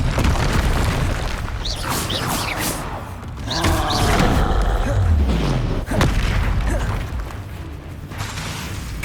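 Booming fire-spell blasts from the Hogwarts Legacy video game, Confringo bursts with whooshes and rumbling impacts, loud and layered over continuous battle noise with a voice calling out spells.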